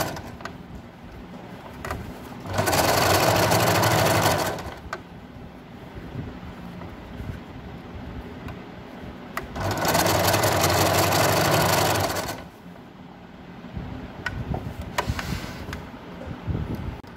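A sewing machine stitches elastic onto a fitted bed spread in two loud bursts of rapid motor whirring, each lasting about two seconds, separated by quiet pauses with faint background hum.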